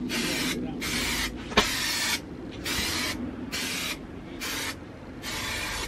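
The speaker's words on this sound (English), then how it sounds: "I'm going to spray the back of the carpet," Aerosol adhesive sprayed onto the back of carpet during a camper van self-build, heard as a series of loud, close hissing bursts about half a second to one second long with brief pauses between them.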